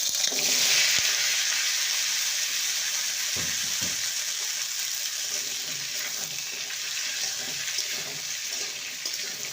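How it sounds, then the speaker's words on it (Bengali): Potato and papaya pieces fry in mustard oil, giving a continuous hissing sizzle with faint clinks and stirring knocks, steady and moderately loud with no talking. "সামান্য সর্ষের তেল দেব আলু আর পেঁপেকে ভেজে নেব"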